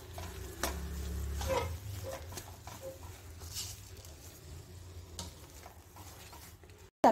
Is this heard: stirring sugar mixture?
yes